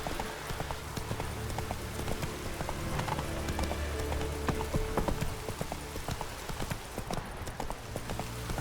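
Horse hooves clip-clop at a steady trotting rhythm in The Witcher 3, close and continuous over a soft background hiss like light rain.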